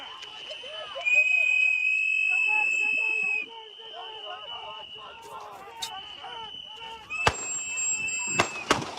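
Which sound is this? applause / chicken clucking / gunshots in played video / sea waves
gunshots in played video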